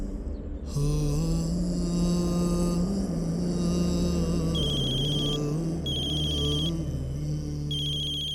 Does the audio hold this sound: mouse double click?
no